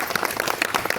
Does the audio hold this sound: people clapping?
yes